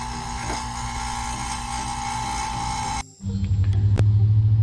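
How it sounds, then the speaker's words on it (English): A vacuum pump hooked to the air-conditioning system of a 2001 Jeep TJ kicks on after a brief pause, settling into a steady, pulsing low hum over a constant background whir. "we're gonna turn on vacuum pump"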